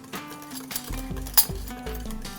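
A spoon clinks against a dish several times while chaat masala is added for a prawn curry. The taps are near and fairly soft, with a few sharper clinks.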